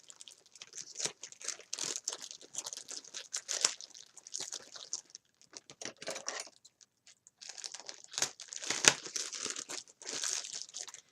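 A plastic bag of lace from a thrift store haul being handled, giving close, continuous crinkling and crackling in bursts with a brief pause midway; no one speaks.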